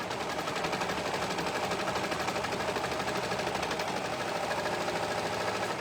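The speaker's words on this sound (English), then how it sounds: "we're gonna sew down the sleeve, under the arm, and then down the side of the shirt" A sewing machine stitches down a shirt sleeve, its needle chattering in a fast, steady, even run that stays constant and fairly faint throughout.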